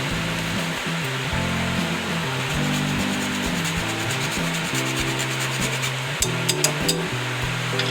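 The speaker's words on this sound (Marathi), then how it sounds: "आपण थोडंसं जायफळ खेचून घेणार आहे" Nutmeg scraped against a grater over filling for fried modak, a rapid series of close, rough rasping strokes in uneven bursts, with no speech over it.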